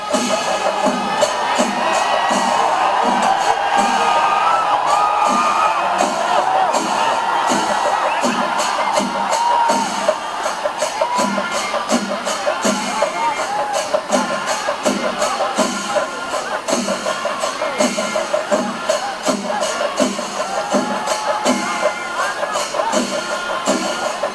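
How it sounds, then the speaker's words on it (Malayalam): A dense festival crowd at Thrissur Pooram roars and cheers continuously, with whoops and shouts rising over a steady rhythmic percussion beat throughout. "ഭഗവതിമാരെ ആർപ്പുവിളികളോടെ എതിരേറ്റു കാത്തുനിന്ന ജനങ്ങൾ"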